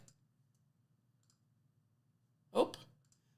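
One crisp computer mouse click, close and isolated, in a quiet room with a low steady hum.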